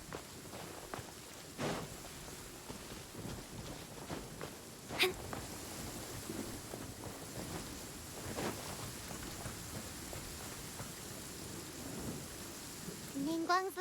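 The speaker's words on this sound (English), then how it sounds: "The sound of rain masks the enemy's footsteps." Steady rain pours in a Genshin Impact game scene, with low thunder rumbles rolling through and occasional sharper cracks and soft footstep-like taps under the downpour.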